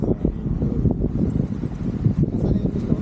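A strong, sudden wind buffets the microphone outdoors at a long-range rifle target shooting session, a loud, gusty low rumble that surges and eases throughout.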